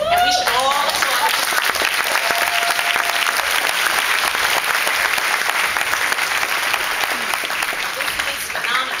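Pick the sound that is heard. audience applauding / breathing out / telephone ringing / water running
audience applauding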